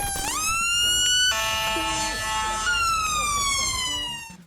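An ambulance siren blares close and loud, a wailing tone that rises and holds before sliding lower, with a second siren tone cutting in partway through and traffic noise underneath.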